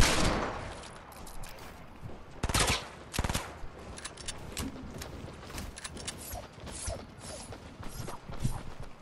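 Gunfire in an online shooter game, with scattered sharp cracks and short rattling bursts at moderate loudness over a busy mechanical clatter, irregular and fairly distant.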